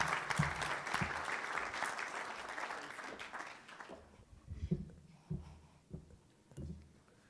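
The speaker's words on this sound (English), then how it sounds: "Please give her a warm round of applause" Warm applause from an audience at a Southern Africa–France business forum, a dense clapping wash that fades after a few seconds into scattered handling noises and low thumps.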